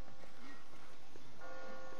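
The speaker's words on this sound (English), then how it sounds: "I just got spooked by those bells" Bells ringing in The Walking Dead video game, a sustained tonal ringing with several steady pitches that swells partway through, set against a dense, murky in-game background.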